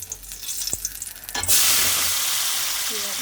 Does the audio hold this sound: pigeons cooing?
no